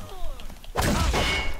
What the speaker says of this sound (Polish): Teraz go załatwimy ciężkim atakiem.